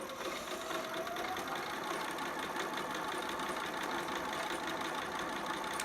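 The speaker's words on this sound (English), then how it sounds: "just do what you did before, just a straight stitch. It's a long gathering stitch." A sewing machine runs steadily, sewing a long straight gathering stitch, giving a continuous even mechanical whir that holds for the whole stretch with no pauses and no one talking.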